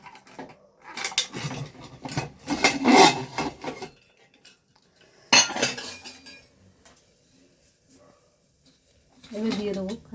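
A metal cake pan for a homemade Christmas cake is set down inside a kadai, giving a brief clink and scrape, with someone talking before and after it.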